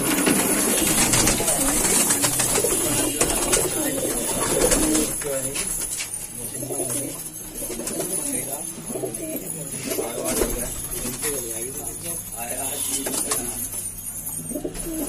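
Hyderabadi pigeons, all males in a net enclosure, coo repeatedly in a steady murmur throughout, with occasional chirps and rustling nearby, and some faint talk in the background.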